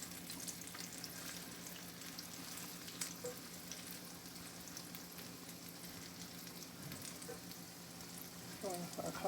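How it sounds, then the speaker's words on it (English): Vegan nuggets of chickpea and artichoke heart frying in grapeseed oil give a steady, soft sizzle and crackle throughout, with a few louder pops near the end. "And I'm frying them in grapeseed oil."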